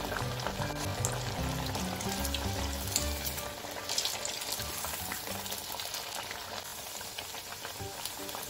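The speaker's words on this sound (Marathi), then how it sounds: "छान ब्राऊन रंग येईपर्यंत आपल्याला वडे तळून घ्यायचे आहेत" Vadas deep-frying in hot oil give a loud, steady sizzle with dense crackling throughout, joined by some stirring, while a low hum runs underneath.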